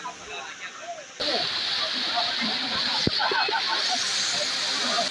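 Water rushes down TK Falls, a waterfall near Bangalore, in a steady broadband roar that turns noticeably louder after about a second and then holds, with faint voices in the background.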